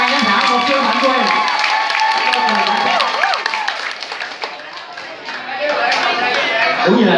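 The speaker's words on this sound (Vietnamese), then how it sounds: "xin mời một tràng pháo tay cho chị Ngộ, ban giám khảo một chương hạnh quê" A large audience at a youth summer camp awards session gives a loud burst of clapping and cheering for a judge, which fades into chatter and then swells again near the end.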